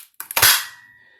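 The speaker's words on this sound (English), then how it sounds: "sorry for the loud noise, but it actually hole punches it" A hole punch bites through a clear plastic chopping mat, making one sharp, loud snap that follows two small clicks and decays quickly into a brief ringing tail.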